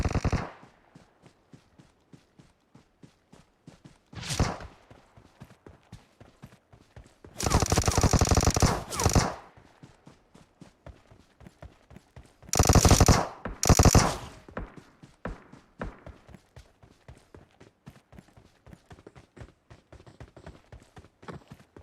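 Rapid gunfire rattles through a BGMI battle between two squads, with bursts of automatic fire and scattered single shots over steady rhythmic footstep-like clicks, heard alone without talk.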